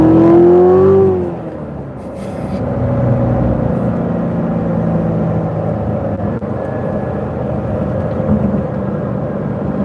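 A stock Corvette C7 Z06 pulls away in first gear, its engine note rising in a steady, loud drone after a brief rev at the start, holding a continuous roar to the end.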